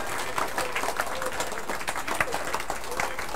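A church congregation claps along during an energetic worship service: dense, steady clapping from many hands, with raised voices mixed in.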